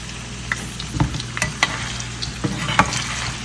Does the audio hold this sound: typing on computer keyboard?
no